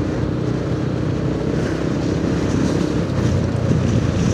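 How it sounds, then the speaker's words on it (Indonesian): Strong, steady wind roars and buffets against the microphone of a motorcycle riding a mountain pass toward Puncak, a continuous loud rumble throughout with no voices. "Anginnya kenceng banget bro."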